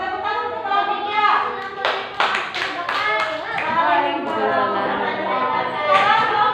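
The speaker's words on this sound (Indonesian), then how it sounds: "Tepuk tangan untuk kelompoknya." A children's class claps for a group, a burst of scattered applause at a steady level mixed with chatter and children's voices throughout.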